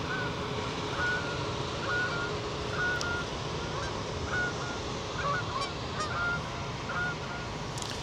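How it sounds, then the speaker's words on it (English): Geese honk repeatedly at a harbour, their calls coming at a moderate distance over a steady outdoor rumble of wind and water. "It's always good to look at the geese go by."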